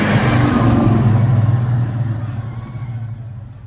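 A 1970 XY GT Falcon replica with a 400-horsepower engine drives past on a racing circuit, its loud, deep engine roar swelling and then gradually fading as it moves away, with a voice faintly over it.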